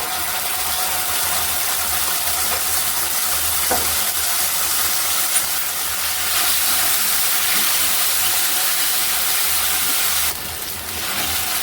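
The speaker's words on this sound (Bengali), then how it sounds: "মশলাটা ভাজা ভাজা হয়ে গেছে" Ground spice paste sizzles steadily in hot oil in a pan while stuffing for paneer potol dorma is cooked. The broad, even hiss is continuous and close throughout, with no talking.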